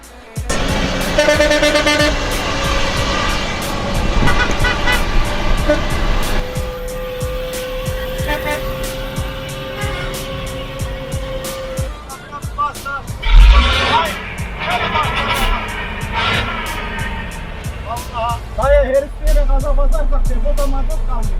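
Engine and exhaust of a classic long-nosed MAN 22.190 truck, a steady loud rumble with revving swells throughout, and a voice speaking over it now and then.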